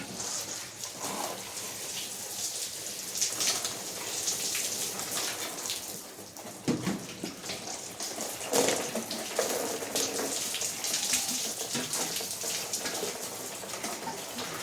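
Water pours and splashes steadily onto soil and leaves of plant starts, a continuous spattering hiss with slight shifts in intensity, no talking.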